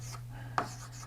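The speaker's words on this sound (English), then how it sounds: "I'll write that on the component form here" One short stroke of a marker or chalk on a board while vector components are written, a single quiet scratch over a low, steady room hum.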